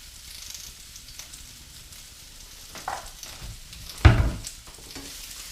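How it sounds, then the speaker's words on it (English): Food frying in a pan, heard as a low, steady sizzle with a louder stir-and-clatter burst near the end, close by and without talk. "Fry that up."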